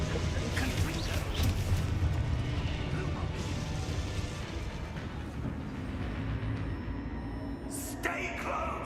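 Spell-blast explosions from a Harry Potter–style video game, a dense rumbling, crashing barrage with a sharp burst near the end, mixed with game voices.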